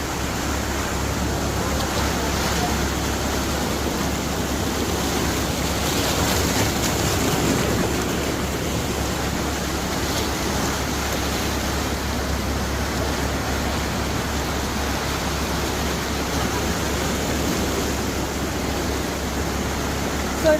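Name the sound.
Alaknanda river water rushing at Badrinath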